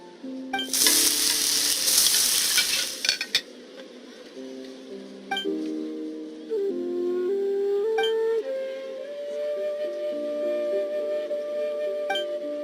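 Food sizzles and fries in a pan in the video game Genshin Impact, a loud burst of frying followed by clinks and light chimes over a soft melodic score.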